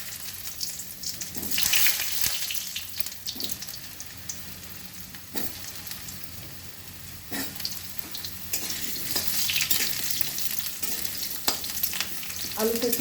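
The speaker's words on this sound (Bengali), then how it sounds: "আলুটা একটু ভাজা হবে" Potatoes fry in oil in a pan after whole spices are tempered, for a pumpkin-greens chorchori. A steady, close sizzle runs throughout, broken by occasional stirring scrapes and spatula knocks, with no talking.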